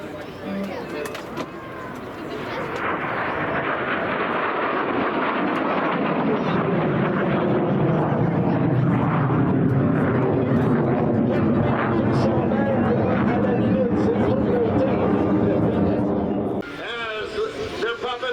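A MiG-17 jet passes at an airshow, a loud broad roar swelling and holding for many seconds before easing off, with crowd and commentary noise around it.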